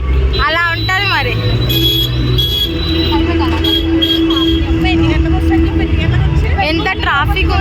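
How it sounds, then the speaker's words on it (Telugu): Busy city road traffic drones loudly and continuously at close range, with car and bus engines rumbling, occasional horn-like tones, and people talking throughout. "ఎంత ట్రాఫిక్ ఉంది తెలుసా?"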